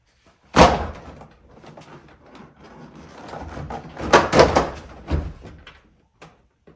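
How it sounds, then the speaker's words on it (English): A door panel pried off a 2003 Chevrolet Silverado during a side mirror swap: a sharp plastic pop, then rustling and scraping, and a cluster of clacks and thuds as the panel comes free, close up with no talk. "the door panel should just come off at this point."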